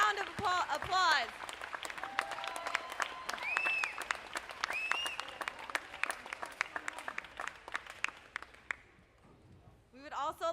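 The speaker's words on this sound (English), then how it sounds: "Let's give them a round of applause." A crowd at a taekwondo tournament opening ceremony claps for the school owners, with dense, lively applause and scattered cheers that fade near the end before a voice speaks.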